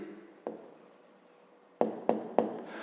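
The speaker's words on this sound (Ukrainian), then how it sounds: "Пишемо відповідь." A hand writes an answer with a pen on paper during a fifth-grade maths exercise, giving a light rubbing stroke followed by three quick, close scratchy taps near the end, quiet and alone.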